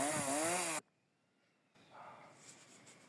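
A chainsaw cuts wood during winter tree felling in freezing weather. A loud, close, wavering engine whine lasts under a second and stops abruptly, leaving near silence and then faint background noise.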